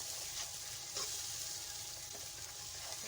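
Ground chilli, turmeric and coriander powder masala sizzles steadily in a pan for dal, an even, continuous frying hiss with a few soft scrapes as it is stirred.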